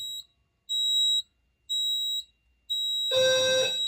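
A smoke detector on a fire alarm system sounds its pre-alarm, three evenly spaced electronic beeps, followed by a harsher, richer alarm tone that cuts in at the end, close and clear.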